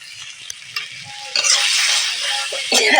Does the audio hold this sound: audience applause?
no